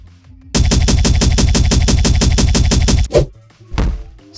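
Greta Thunberg's sign spear super attack in the M.U.G.E.N fighting game: a loud, rapid burst of evenly repeated hits lasting about two and a half seconds, ending in a couple of softer thumps.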